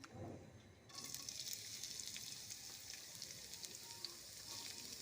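Chopped onion sliding into hot oil already seasoned with whole cumin seeds, setting off a sudden loud, steady sizzle that keeps on crackling close by with no voices.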